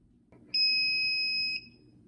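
A single high-pitched electronic beep from a digital powder scale signalling it is done holds steady for about a second against a quiet background.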